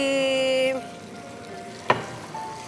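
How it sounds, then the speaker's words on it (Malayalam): Chicken marinated with pepper, red chilli powder, salt, ginger garlic paste and lemon juice fries in a pan. A steady, close hissing sizzle runs throughout, briefly under a faint tonal hum at the start, with a single sharp utensil tap midway. "നമ്മളെ ചിക്കൻ അങ്ങോട്ട് ഫ്രൈ ചെയ്ത് എടുക്കണം"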